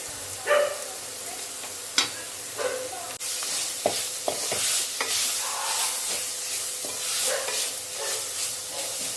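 Indian gooseberries (amla) sauté in a pan, giving a steady close sizzle with spatula knocks and scrapes; a dog barks faintly near the start.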